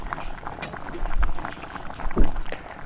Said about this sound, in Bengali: তো দেখুন কি সুন্দর ফুটছে ঝোলটা।